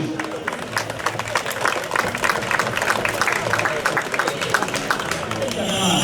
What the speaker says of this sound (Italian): Un bel applauso anche per Simagis.